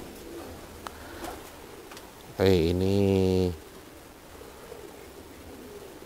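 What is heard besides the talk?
homing pigeon cooing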